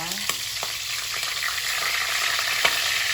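Pork hocks fry in hot oil with a steady, dense sizzle and a few crackling pops, close up and continuous, with no talking.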